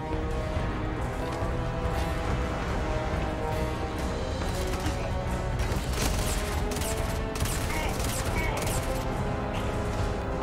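Rapid, sustained gunfire from the player's favourite gun in the Starfield video game, loud and dense with crashing impacts throughout, no talk over it.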